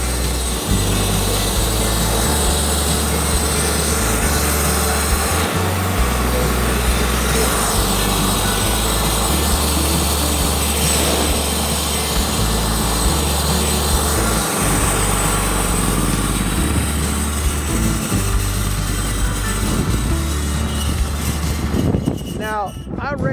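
A homemade sawmill blade cuts through a rotten old cedar log, its engine droning loudly and continuously at close range for most of the stretch before cutting off near the end.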